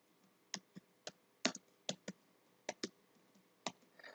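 Computer keyboard keys tapped in short irregular bursts, about a dozen crisp clicks close by in a quiet room, with no voices.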